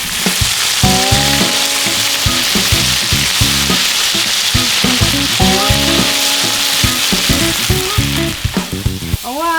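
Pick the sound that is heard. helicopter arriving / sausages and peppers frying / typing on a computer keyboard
sausages and peppers frying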